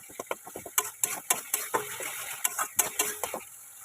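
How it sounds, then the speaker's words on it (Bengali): Masala for a cabbage curry is stirred and fried in a pan, giving a quick run of sharp spoon-on-pan scrapes and taps in an irregular rhythm over a steady sizzle. "এবার এটাকে ভালো করে আমরা কষিয়ে নেবো।"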